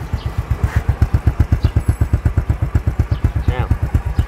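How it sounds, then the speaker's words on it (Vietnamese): A 2003 Honda Anpha motorcycle engine runs at idle, loud and close, with a steady rapid thumping putter; a voice speaks briefly over it. "Máy nổ."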